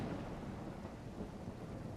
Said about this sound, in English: they changed the general sound of the rain